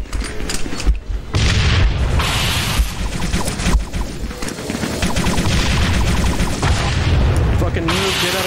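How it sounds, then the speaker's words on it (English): Grenades go off in a Halo VR sword-arena match, loud booming blasts layered with dense continuous gunfire and game noise filling the whole stretch, players' voices mixed in. "Oh, you're using grenades now!"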